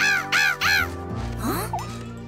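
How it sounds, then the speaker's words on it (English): Cartoon crows give three loud, harsh caws in quick succession, close and clear. Softer gliding, voice-like squeaks follow over light background music. "Look at those crows over there."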